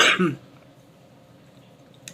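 A single sharp cough at the start, loud and close, followed by near silence with faint background noise.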